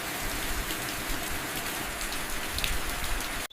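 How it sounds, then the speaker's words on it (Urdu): Heavy rain pours steadily in a storm over farm fields, a dense, constant hiss of drops on surfaces that fills the whole stretch before cutting off abruptly at the end. "تیز بارش شروع ہو گئی"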